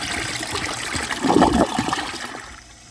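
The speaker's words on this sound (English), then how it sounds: "So I'm going to give this another flush real quick." A 2007 Crane Elite toilet flushes with a steady rush of water that swells to a gurgling peak midway and then tapers off as the bowl drains, heard up close with no talk.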